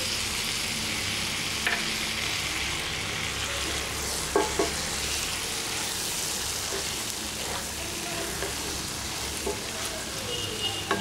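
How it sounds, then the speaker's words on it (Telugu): Tomatoes and raw mango pieces sizzle in a pan with onions and lentils for a purslane curry, giving a steady, dense frying hiss with occasional stirring clicks. "ఇప్పుడు టమాటోలను మామిడికాయ ముక్కలను వేసి వాటిని కూడా మెత్తగా మగ్గేంతంత వరకు ఉడికించుకోవాలి"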